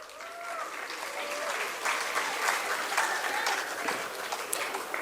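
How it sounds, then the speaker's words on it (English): Applause for award winners at a football tournament prize ceremony, a crowd clapping outdoors that swells and holds steady, with a voice briefly heard at the start. "Everyone give them a huge round of applause"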